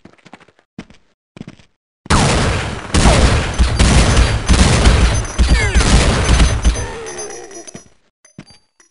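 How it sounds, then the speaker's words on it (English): Rapid gunfire in Counter-Strike rattles out in a long, loud, dense volley of close shots lasting several seconds, framed by a few sparse clicks and thumps before and after. "I was shooting too fast"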